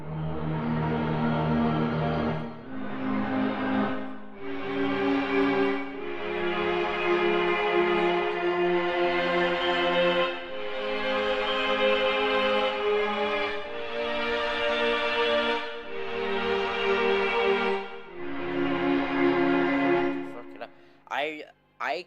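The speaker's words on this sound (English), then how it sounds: "when it loads, this is the sound of my fridge." Sustained, droning harmonic tones played in long overlapping notes, a sampled refrigerator hum turned into an instrument, with a few short clicks near the end.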